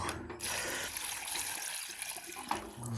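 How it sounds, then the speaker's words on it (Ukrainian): Cold spring well water poured from a bucket, a steady broadband rush of liquid lasting nearly three seconds, close and fairly loud, with no talking over it. "Далі беремо і заливаємо водою"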